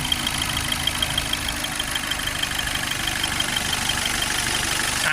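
An Audi A3 1.6 engine idles steadily and close by after starting, a low, even mechanical rumble with fine rhythmic ticking and a faint whine running throughout, no talking.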